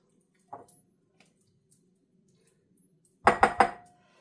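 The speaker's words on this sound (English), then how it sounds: "we're mixing up 1/3 of a cup of mayonnaise" Mayonnaise for a carrot raisin pineapple salad dressing is stirred in a bowl: a few soft, wet squishes and faint clinks, then a quick cluster of three louder utensil scrapes against the bowl in a near-silent room.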